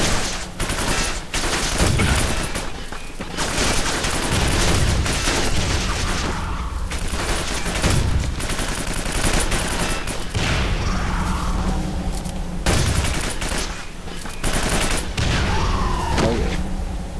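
Booming shotgun blasts and other gunfire from the video game Quake 4 recur throughout, loud and dense, layered over continuous game noise and explosions.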